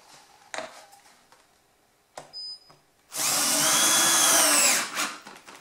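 A power drill drives screws into door hinges, with a few short handling knocks and a brief whir first, then a loud sustained whine close by that winds down.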